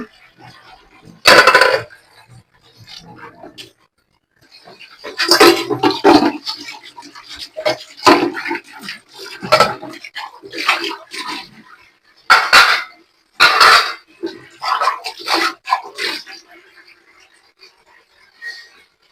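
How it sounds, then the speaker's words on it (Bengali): A basketful of dishes, pots and pans being washed, with loud clattering knocks and scraping bursts of metal and crockery coming in irregular clusters between quieter stretches of splashing and handling. "আর থালা বাসন ধোয়া শেষ, এক ঝুড়ি থালা বাসন ধোয়া ধুয়ে কমপ্লিট"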